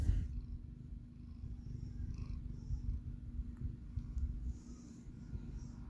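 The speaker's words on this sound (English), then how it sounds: "Piper sitting here on my planet purring away" A cat named Piper purring close by, a soft, continuous low rumble with a gentle pulsing rhythm, steady throughout with no talking.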